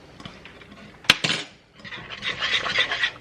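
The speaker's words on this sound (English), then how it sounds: "cook, stirring often with spoon, close enough until pudding is noticeably thicker and clings to spoon" A spoon clinks and scrapes against a pot of thickening homemade chocolate pudding, one sharp knock followed by a burst of metallic scraping and stirring, close and moderately loud with no talking.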